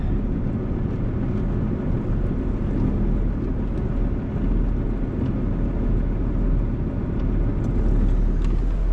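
A vehicle idles its way back slowly on a frozen outing with no working foot throttle, giving a steady, loud low engine rumble throughout with no breaks and no talking.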